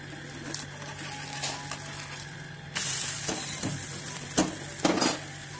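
Egg and flour snack frying in oil in a home kitchen, a soft steady sizzle that grows louder partway through, broken by several sharp clinks and scrapes of a utensil against the pan.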